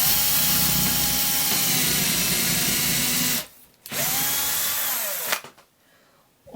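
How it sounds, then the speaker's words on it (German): A power drill bores a straight hole in a wooden candle block, giving a loud, close, steady whine. The motor cuts out twice, spins down, then starts again. "Man braucht mal Bohrer. Und dann bohren wir uns ein gerades Loch."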